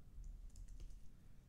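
A few quiet keystrokes on a computer keyboard while entering an apt install command to set up stressapptest for testing overclocked RAM, heard as sparse soft clicks over low background hum.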